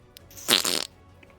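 A voice imitates a fart with a single short, buzzy, sputtering blurt of about a third of a second, close and loud against a quiet room.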